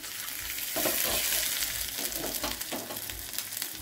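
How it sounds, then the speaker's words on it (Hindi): Tempering spices for palak paneer sizzle and crackle loudly in hot oil, a dense continuous hiss with frequent sharp pops, close up and without talking. "सो ये रहा तड़का"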